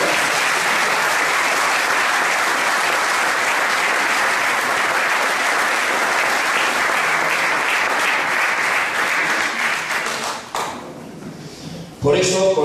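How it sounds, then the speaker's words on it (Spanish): Dense, sustained applause from a large church conference congregation fills the space for about ten seconds, then tapers off abruptly, leaving brief clatter and a few scattered sounds. "Den un fuerte aplauso al Señor Jesús."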